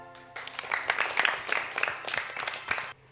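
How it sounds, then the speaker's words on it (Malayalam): Children clap together in a brief, dense round of applause lasting about two and a half seconds, close and lively, with no speech. "ഈ രണ്ടുപേർക്ക് ഒരു ബിഗ് ക്ലാപ്പ് കൊടുത്ത കൂട്ടുകാരെ"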